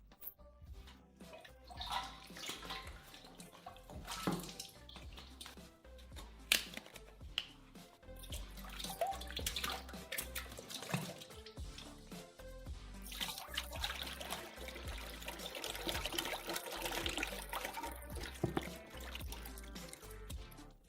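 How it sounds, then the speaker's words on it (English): Thick egg whites pouring and splashing from bottles into a saucepan, gurgling and trickling on and off, with clinks of bottles nearby. "we open the bottles and pour them into a saucepan"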